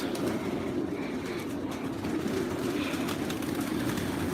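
Pigeons in a loft, a flock of around a hundred colored birds in Osmaniye, give off a steady, dense murmur of cooing and shuffling that fills the space close by, with no talking.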